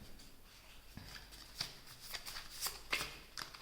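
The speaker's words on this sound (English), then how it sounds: "I'll shuffle a couple more" Tarot cards being shuffled by hand, a series of soft riffling bursts and papery flutters close up in a quiet room.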